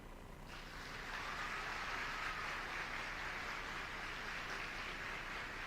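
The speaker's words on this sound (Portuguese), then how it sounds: "Aplaudam." Audience applause at a lecture, a steady, dense wash of clapping from many hands that holds at an even level throughout, with no voices on top.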